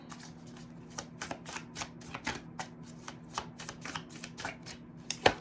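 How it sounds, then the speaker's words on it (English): Tarot cards are shuffled close up in a series of soft, quick riffles and taps, fairly steady across a few seconds, with no talk. "So let's get one card for Gemini, please."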